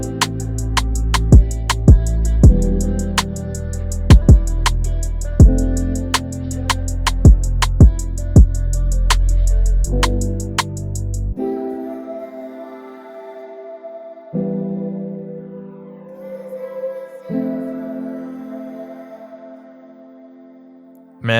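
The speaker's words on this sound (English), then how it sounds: "I also added a pretty big H delay on it here, which is doing a ping pong delay from left to right." Slow R&B beat with punchy drums, bass and melodic layers drenched in a wide ping-pong delay bouncing left to right, the drums dropping out halfway to leave sparse echoing chords and repeats.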